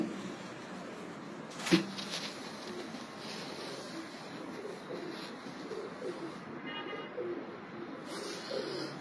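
Pigeons kept for traditional pigeon fancying in an inner-city loft coo softly and steadily through a faint windy background, with one sharp knock partway through.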